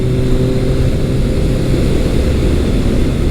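Motorcycle engine fitted with an ART aftermarket exhaust, a Kawasaki ZRX1200R or Suzuki GS1100, droning steadily and loudly up close with a deep, constant rumble and no pauses.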